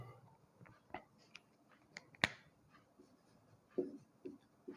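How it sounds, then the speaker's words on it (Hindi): Chalk or marker taps and scratches against a board in short, irregular strokes, with a sharper squeak midway, sounding fairly close and quiet as an example is written out. "एक उदाहरण लिखता हूँ।"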